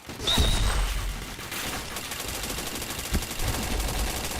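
Rapid automatic gunfire from the online shooter game Point Blank fills the stretch, dense sustained bursts with a sharp high ping near the start and a constant hiss beneath.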